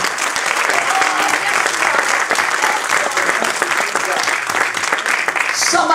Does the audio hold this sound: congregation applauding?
yes